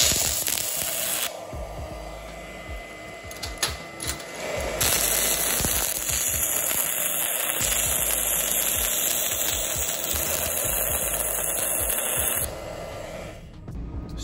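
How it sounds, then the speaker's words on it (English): Portable handheld welder joining a cut C clamp to the head of a 5/8 bolt, giving a steady, loud buzzing crackle that runs continuously for most of the clip before cutting off near the end. "Now we just need to weld that cut C clamp to the head of that 5/8 bolt."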